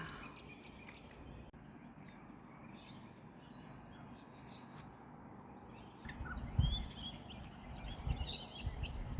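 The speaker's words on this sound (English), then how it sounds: "Oh, the bird in the bird bath." Birds chirp faintly at a garden bird bath in rural Blackbutt, Queensland, their thin calls growing a little more active in the last few seconds over steady outdoor ambience.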